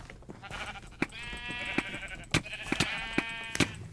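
Sheep bleating in an arcade video game, repeated electronic bleats over steady game sounds with sharp clicks and hits throughout.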